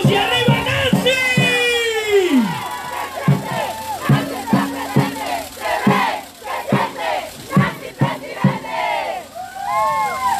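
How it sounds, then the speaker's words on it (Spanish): A crowd at a campaign closing rally shouts and chants in rhythmic bursts, loud and close, with rising and falling cheers and whoops in a steady repeated pattern. "ahí está la algarabía de la porra"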